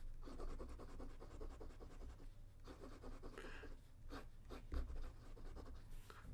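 Lamy 2000 fountain pen with a medium nib scratching across paper in close, continuous strokes, a soft papery rasp with short pauses between words and lines.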